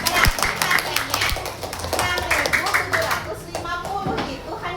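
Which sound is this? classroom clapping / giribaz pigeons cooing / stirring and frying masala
classroom clapping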